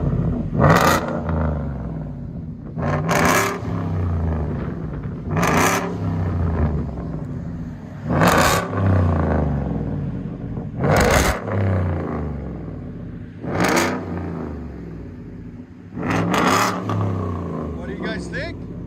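Ford F-150 with a 5.0L Coyote V8 and aftermarket exhaust revving, seven deep throaty bursts in a regular rhythm with idle rumble between them, loud and close, with a voice in the background.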